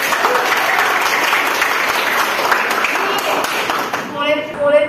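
Applause in a high school classroom: many students clap together loudly and steadily for several seconds, and a few voices are heard near the end.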